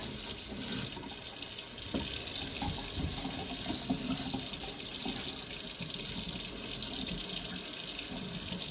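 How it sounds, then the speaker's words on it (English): Tap water runs steadily from a faucet over hot metal to quench it during a tripod repair, a continuous close hiss and splash lasting throughout with no talking. "Quench it. It's called faucet."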